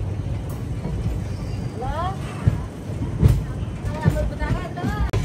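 Andaman Express train rolling along on its journey: a steady low rumble of wheels and carriages, with occasional squealing tones and a few louder knocks, plus faint muffled voices in the background.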